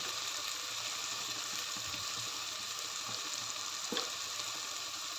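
Red chili powder and coriander powder sauté in a pan as the base of an egg curry, with a constant close sizzle and a few soft stirring scrapes, one sharper near the end, and no speech.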